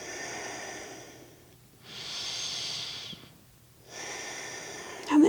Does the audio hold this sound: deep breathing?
yes